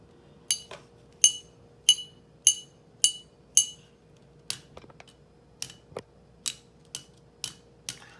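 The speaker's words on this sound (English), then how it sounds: "So, let's take the glass bottle. I'm going to hit it, and you're going to hear different sounds." A glass bottle struck repeatedly with a hard object, giving about a dozen sharp, ringing clinks in a steady rhythm; the later taps sound slightly duller and lower in tone, close and clear with no talking.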